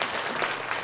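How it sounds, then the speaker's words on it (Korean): An audience at a school education talk event claps briefly, a short burst of steady applause. "여러분 박수 보내주시기 바랍니다."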